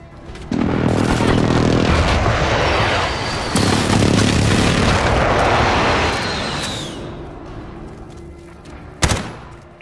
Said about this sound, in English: There's an airstrike on the way.